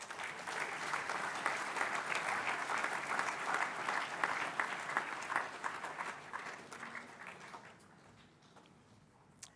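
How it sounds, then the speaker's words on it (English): A school assembly audience applauds a piano student receiving a music performance merit award, steady dense clapping filling the room for about eight seconds before tapering off into quiet. "please give him a round of applause"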